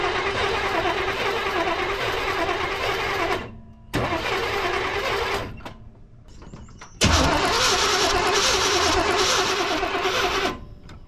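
1992 Chevy C1500 with a throttle-body-injected small-block V8 cranking over loudly and close by, in long sustained bursts with brief breaks between attempts and no talking.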